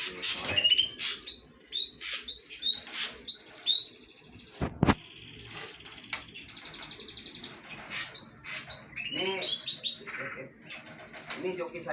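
Pet songbirds kept at home chirp in bright, repeated bursts, near and lively, with short gaps between calls and a few sharp knocks midway.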